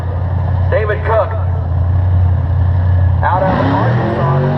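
Race car engine idling and rumbling at Thunder Valley Raceway Park drag strip, a steady loud low drone throughout with an announcer talking over it in bursts.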